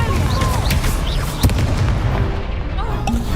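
A Confringo blasting spell explodes in the video game Hogwarts Legacy with a sharp boom amid a dense, rumbling clatter of battle noise, while a character shouts over the top.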